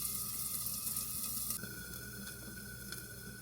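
Teriyaki chicken fried rice sizzles in a lidded pan, a steady hiss and crackle that drops slightly halfway through and then carries on evenly, close and moderately quiet.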